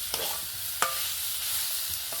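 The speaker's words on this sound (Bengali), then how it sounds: "আলুটা নেওয়ার পর খুব ভালো করে একটু নেড়ে চেড়ে মিশিয়ে নেব" Mashed potato being stirred into spices in a pan over a low flame, with a soft continuous sizzle punctuated by a few sharp spatula scrapes and taps against the pan, close and moderately quiet.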